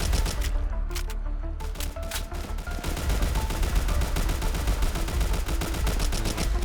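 Rapid bursts of gunfire in the Roblox game The Breakout crackle almost continuously against zombies, dense rattling shots layered over a low rumbling background, loud and close.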